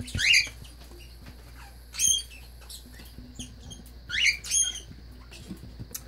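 A pet bird squawks and fusses in a bird room, sharp raspy calls arriving in separate bursts a couple of seconds apart over a quiet background hum.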